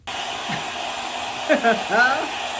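A hair dryer blows steadily on a lace wig, its continuous loud whoosh running throughout while a voice speaks briefly over it.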